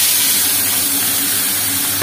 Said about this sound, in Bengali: এবার দিয়ে দেবো মাছটা